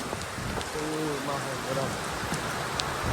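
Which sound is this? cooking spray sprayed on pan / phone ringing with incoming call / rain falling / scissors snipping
rain falling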